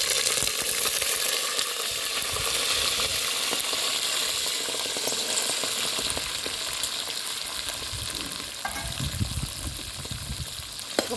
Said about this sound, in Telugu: బఠానీ, క్యారెట్, బీన్స్, బీట్రూట్, ఆనియన్, పచ్చిమిర్చి అవి అయితే మంచిగా ఫ్రై అయ్యండి